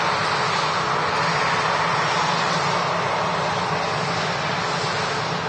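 An aircraft departing Manchester Airport from the nearby runway, a loud continuous engine roar that holds steady and close throughout without talk.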